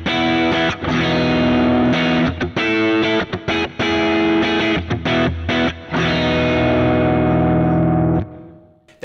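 Electric guitar played through a Kemper profiler with its EQ switched on and the mids boosted, giving a loud, dense distorted tone of strummed chords and choppy stops that rings out into a decaying tail.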